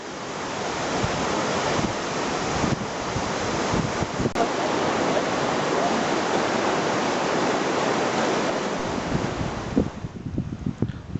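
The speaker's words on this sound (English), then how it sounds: "That's the river." A river along the Scottish National Trail between Callander and Comrie rushes in a steady broadband roar, loud and unbroken for about ten seconds. Wind buffets the microphone, and the flow thins out near the end.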